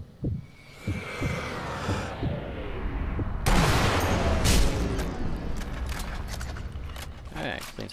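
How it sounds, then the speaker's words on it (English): Mortar rounds explode in the video game Sniper Elite V2, heavy booming blasts with a loud burst midway and rumbling, crackling debris, over a busy backdrop of game noise. "they only have like one mortar going off"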